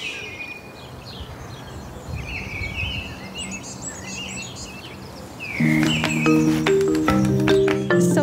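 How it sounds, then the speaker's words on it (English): Wild birds sing at a nature reserve with scattered chirps, whistles and trills over a steady outdoor hiss. A louder, sustained tonal sound joins in for the last few seconds. "They have lots of different types of birds here."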